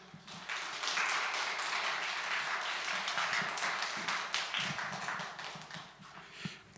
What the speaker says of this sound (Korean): 우리 김진영 목사님 제가 모실 때 여러분 큰 박수 부탁드리겠습니다.